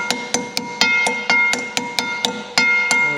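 A hammer taps a grease seal into the undercarriage of a Deere 700J dozer during a rebuild, giving about a dozen sharp metallic strikes in an uneven rhythm, loud and close with ringing decay and no talking.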